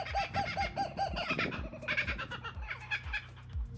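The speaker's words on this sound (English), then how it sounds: "by a small margin, the largest family member is actually the laughing kookaburra" A laughing kookaburra, the largest kingfisher, gives a loud, rhythmic, cackling call. Repeated hoarse hooting notes build into a chuckling chorus that runs throughout.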